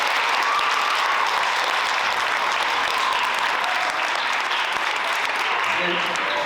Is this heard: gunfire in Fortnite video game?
no